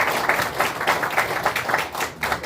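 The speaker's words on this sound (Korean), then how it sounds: "하나님께 감사와 영광의 박수를 드리겠습니다" Steady applause from a church worship gathering, sustained rhythmic clapping filling the room throughout with no speech over it.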